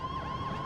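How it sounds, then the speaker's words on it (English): A police car siren in a roleplay video game wails steadily with a rising and falling tone, moderately loud and continuous over a low rumble, with no voices. "Now we can't even turn the sirens off."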